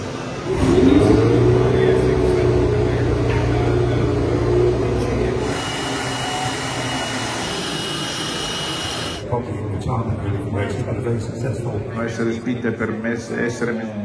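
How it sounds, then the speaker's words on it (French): Race cars from 1977 to 1980 rev their engines on the starting grid, a loud, dense engine roar that carries on steadily and then thins to a rougher idle, with people talking over it. "là on est sur la grille de départ des voitures des années 77 à 80"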